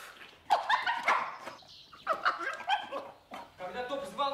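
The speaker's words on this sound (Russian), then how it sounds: "Когда Топ звал нас к Питеру Сайресу, он лаял точно так же" A dog barks in a radio play adaptation of Jules Verne's The Mysterious Island, giving repeated loud, close barks in several short bursts across the clip.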